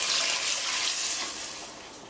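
Chicken stock, 1.5 litres, is poured into a soup pot, making a steady, close splashing rush that gradually softens as the pour tapers off.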